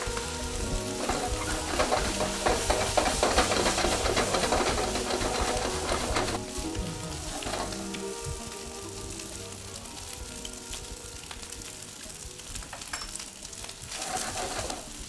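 Leftover fried rice with shrimp, Anaheim chili and scallions, seasoned with savory salt and soy sauce, crackling and sizzling steadily in a hot pan, loud and close, with stirring and scraping through it and no voices.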